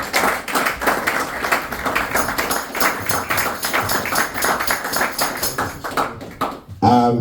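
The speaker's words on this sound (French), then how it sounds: "Applaudissez encore le Seigneur." A church congregation claps for the Lord, a dense run of loud, fairly rhythmic handclaps with voices mixed in, ending abruptly before a brief spoken sound.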